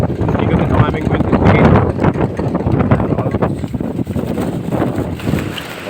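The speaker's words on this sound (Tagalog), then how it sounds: "Malakas ang sulong hangin, napakalakas ng kanyang ikot." Strong, loud typhoon wind roars and buffets the microphone in heavy gusts, with a voice partly audible beneath the constant rumble.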